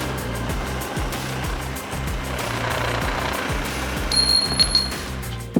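A 350 Legend rifle barrel is cut down to 15 inches with a steady grinding, motor-driven cut. Regular rhythmic thumps run throughout, and a thin, high metallic squeal appears toward the end.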